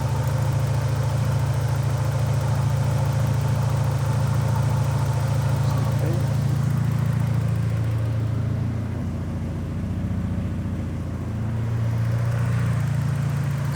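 A Porsche 944 engine idles steadily with a deep, even hum, the idle stabilizer disconnected; the speed dips briefly near the end before recovering, and no one speaks.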